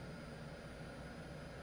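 Twin-jet T-37B Tweet trainer engine spooling up during a cold start, a steady loud broadband roar with a high whine, continuous and close, no voices.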